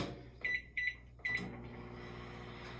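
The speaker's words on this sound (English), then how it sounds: "we're going to put it in the microwave for at least 35 seconds" A microwave oven running with a microwave-safe plate inside gives three short electronic beeps over a steady low hum that continues afterward.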